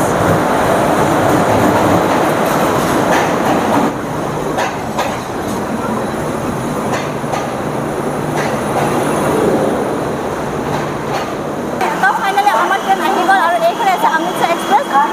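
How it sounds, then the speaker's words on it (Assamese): A passenger express train rumbles loudly into a station with steady wheel and carriage noise, people talking over it, and a brighter clatter near the end. "ফাইনালি আমাৰ ট্ৰেইন আহি গল এইখনে অমৃতসৰ এক্সপ্ৰেছ"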